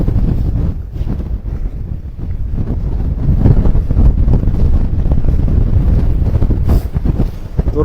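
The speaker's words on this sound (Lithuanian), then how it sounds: "Vėjukas, girdit kaip žvimbia" Strong wind gusts across open ice during an ice-fishing outing in Sweden, a constant roaring rumble that buffets the microphone with no pauses, and nobody talks.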